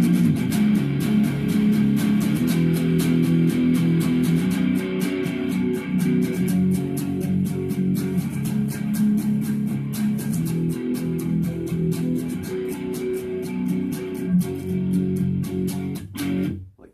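A rhythm guitar plays the chorus of a song with a distorted tone, strumming hard and alternating with rapid muted chugs. The playing is steady and close, with no talking, and ends abruptly.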